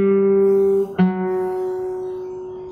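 A fingerstyle guitar slowly plays a passage of a piece. One ringing note sustains, then a second note is plucked and left to decay, played alone and close.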